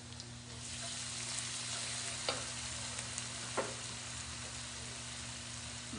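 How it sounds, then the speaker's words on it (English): Lemongrass spices frying and being stirred in a pan: a steady close sizzle with a few sharp scrapes of the utensil, with no talking. "Make sure to keep stirring constantly."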